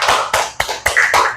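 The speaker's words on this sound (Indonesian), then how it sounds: "Tepuk tangan untuk kelompok 2." Classmates clap for group 2 in a classroom, five or so quick sharp claps in a brisk uneven rhythm, close and fairly loud with no talking.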